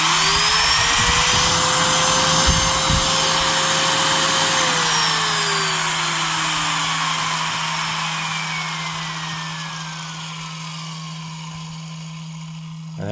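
A Porter-Cable trim router motor spins up with a rising whine, holds a loud steady scream, then winds down in a long falling coast as the bearings run free.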